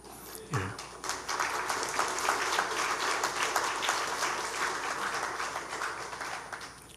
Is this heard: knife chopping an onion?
no